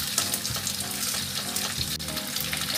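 Chicken fries in hot oil in a pan, giving a loud, close, continuous crackling sizzle with occasional soft knocks from stirring.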